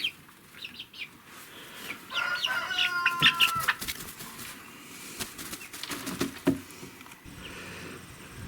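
Several chickens, including Wyandottes and white hens, cluck and squawk nearby in scattered bursts, with some wing flapping amid quiet farmyard background.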